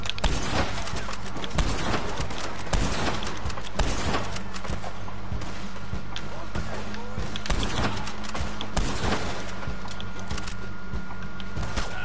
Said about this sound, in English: What are you shooting me from?